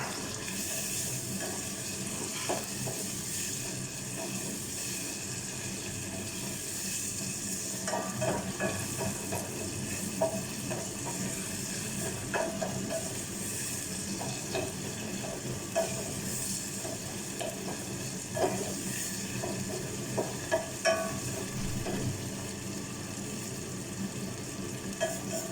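Tomatoes are mashed and stirred as they fry in a pan for a Filipino squash sauté, a long, steady sizzle broken by repeated spoon scrapes and soft clacks.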